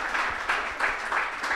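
Student audience at a university election debate applauding in a brief burst of clapping, moderately loud with slight swells in intensity, no voices over it.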